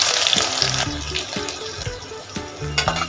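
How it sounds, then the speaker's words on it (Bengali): Two medium chopped onions sizzle in well-heated mustard oil inside a pressure cooker, a steady close frying hiss with soft crackles and occasional stirring clinks, no voices. "পেঁয়াজটা লাল করে ভেজে নেব।"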